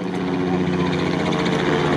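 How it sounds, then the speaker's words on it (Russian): A continuous droning rotor hum from helicopters overhead at an off-road race on sand, steady and moderately loud with a faint pulsing texture, no talking. "Вертолеты летают."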